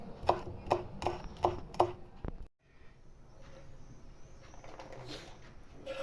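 A knife chops green onions against a board in about five steady, evenly spaced strokes, followed by a brief silence and then a low, soft rustling background.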